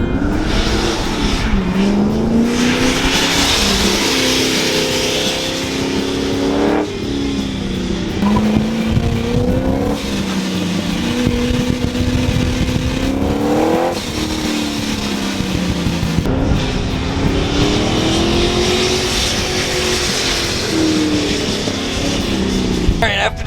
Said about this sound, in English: It's our first time experiencing the Exocet on the autocross course.